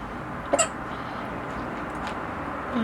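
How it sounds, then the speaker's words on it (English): A single short hiccup from someone who has just eaten spicy food pops out sharply near the start, then a quiet room tone follows. "Hiccup fits."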